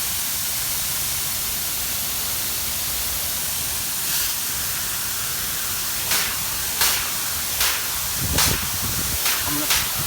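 A fire hose nozzle sprays water at 100 psi, a loud steady rushing hiss. Several short sharp knocks or bursts cut through it toward the end.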